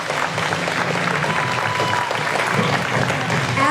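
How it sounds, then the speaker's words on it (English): An audience applauds a runner-up at a Miss Tattoo New Zealand pageant, a dense, steady wash of clapping from a crowd that holds at full strength throughout. "Round of applause for Emily."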